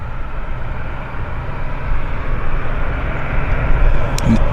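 A WestJet airliner trundles along the taxiway at Vancouver Airport, a low, steady engine hum that swells slightly as it draws nearer, with a brief higher tone near the end and no talk.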